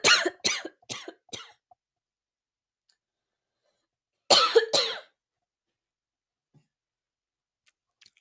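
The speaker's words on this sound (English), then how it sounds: "I just had a coughing fit" A coughing fit: four quick, sharp coughs in a row, a pause, then two more harsh coughs, close and otherwise silent.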